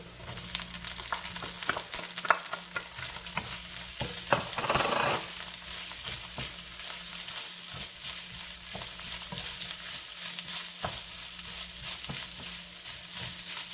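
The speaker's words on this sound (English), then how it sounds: "once the garlic's a little bit golden, we want to go ahead and throw in our bamboo" Pickled sour bamboo shoots sizzle and fry in hot oil with golden garlic, a steady, dense crackle with repeated stirring scrapes from a utensil against the pan throughout.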